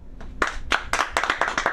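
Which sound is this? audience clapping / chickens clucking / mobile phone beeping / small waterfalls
audience clapping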